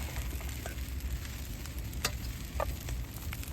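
Fried rice sizzling and being stirred in a frying pan over a campfire outdoors, a steady loud crackle with a few sharp scrapes and clinks of the utensil against the pan.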